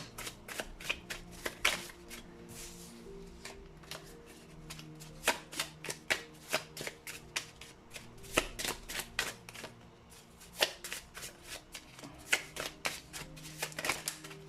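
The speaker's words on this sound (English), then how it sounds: "Those cards are really hard to shuffle today for some reason." A deck of tarot cards is shuffled over and over, giving repeated crisp riffling bursts and soft slaps at an uneven rhythm, close and fairly quiet, with no talk.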